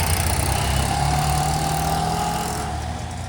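A small classic Fiat 500 engine at a car and bike breakfast meet, a steady, loud, close putter with a low rumble that rolls on continuously for a few seconds and fades slightly at the end.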